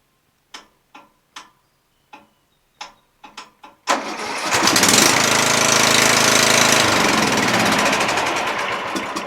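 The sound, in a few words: lawn tractor starter solenoid clicking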